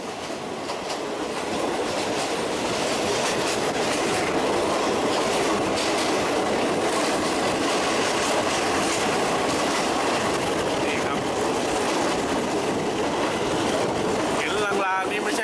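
Steady rumbling of a train rolling along rails through fog at Khiri Rat Nikhom, with dense broadband rattle throughout and a brief squeal near the end.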